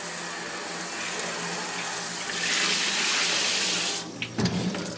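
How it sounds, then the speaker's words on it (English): Water runs steadily into a Shirley Fabrication cooker to flush out sludge, a continuous close hiss of flow that swells midway and then breaks into splashing and gurgling near the end. "Try to just put a little bit of water in here, running it down."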